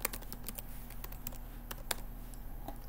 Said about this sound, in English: you're going to want to type in your username